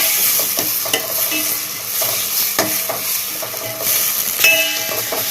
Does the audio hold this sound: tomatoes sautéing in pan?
yes